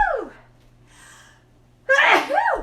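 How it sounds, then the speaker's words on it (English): A single person sneezes nearby in a kitchen: a rising breathy gasp with a moan, then a sharp loud sneeze burst near the end. "Hold on, I'm going to sneeze."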